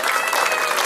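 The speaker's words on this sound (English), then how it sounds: "let's give our officers a round of applause for what they do as well" Applause from an outdoor crowd at a community autism awareness night, clapping in honor of police officers; a short, dense, steady wash of many hands, fairly loud and continuous with no gaps.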